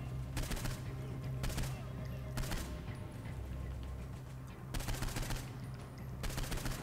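Gunfire in the video game Saints Row IV, with loud bursts of shots in short clusters that repeat several times, separated by a lower steady rumble of game sound.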